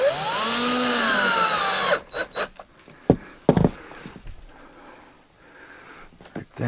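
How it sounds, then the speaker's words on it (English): A power drill drives a couple of screws to secure an electrical box during drywall work in a cabin, giving one steady whir of about two seconds and then a scatter of brief knocks and handling noises. "I'm gonna put a couple screws in it to hold it."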